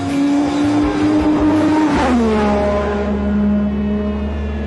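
Ayrton Senna's race car, driven by Lewis Hamilton, with a loud, close engine holding a steady high rev, then dropping in pitch as it shifts down and settles into a lower, throaty drone.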